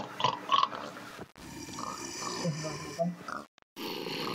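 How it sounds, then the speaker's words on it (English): Pigs in the Minecraft video game oink and grunt in short bursts, fairly close, mixed with other game sounds and partly under a person talking. "all I can hear on my screen is, like, just pigs"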